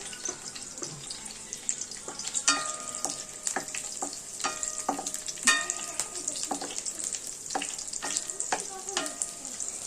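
Slit green chilies sizzle softly in oil in a pan for mushroom Manchurian, with light clinks and scraping of a stirring spoon against the pan throughout.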